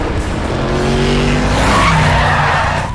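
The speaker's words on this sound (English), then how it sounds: "Dom takes off and gets in front of the truck." A stunt car pulls out fast in front of a truck, loud and close with sustained engine roar and tire squeal that holds steady across the clip, no voices.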